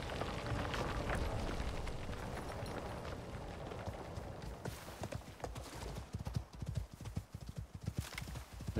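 Horse hooves clip-clop steadily as a rider travels through an open-world Olympus video game, a continuous rhythmic trot over a low rumbling background that grows choppier and more uneven toward the end.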